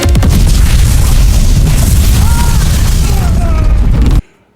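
A starship console in a Star Trek scene explodes in a loud, sustained roaring blast with crackling debris and faint electronic warbles, filling the space for about four seconds before cutting off abruptly.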